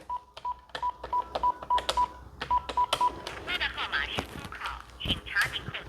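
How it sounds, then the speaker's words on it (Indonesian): Telephone keypad tones dial a number in a quick, even series of clear beeps over the first three seconds, followed by rustling and handling noises while people talk nearby. "Kita telepon nyonya."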